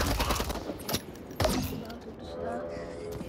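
Gunfire in the shooter game Urban Heat: a few sharp bursts of shots and clicks over background noise, mostly in the first second and a half, followed by softer mechanical and ambient sounds.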